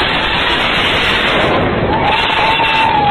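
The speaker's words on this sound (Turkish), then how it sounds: "Lübnan'ın başkentinde büyük bir patlama oldu." A huge roaring blast in Beirut, Lebanon, 2020, rumbles continuously at full loudness, broad and booming, with a faint rising tone toward the end.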